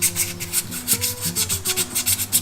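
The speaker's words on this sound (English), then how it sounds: "I'm actually sanding down some of this corrosion that's on the crank." Close, rhythmic rubbing of sandpaper against corrosion on the crank of a 2005 Mazdaspeed Miata engine, a steady series of short scraping strokes with a faint low hum underneath.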